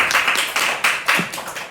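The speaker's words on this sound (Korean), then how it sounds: "우리 환영의 박수 한번 하겠습니다" A small church congregation at a Sunday worship service claps in welcome, close and fairly loud, with a few distinct bursts of clapping rising and fading unevenly over less than two seconds.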